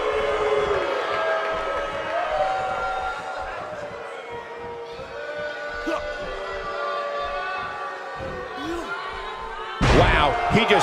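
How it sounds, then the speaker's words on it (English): Heavy thuds of wrestlers hitting the mat in the WWE 2K18 video game ring out against a continuous arena crowd roar, with a loud slam near the end and commentary voices running over the top. "He just slammed him with ease."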